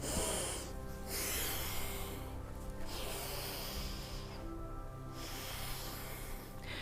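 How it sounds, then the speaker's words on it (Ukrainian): Slow, airy breaths sound close and quiet during a morning stretching workout beside a wall, with long inhales and exhales separated by short gaps and a faint background hum. "Вдих. І видих."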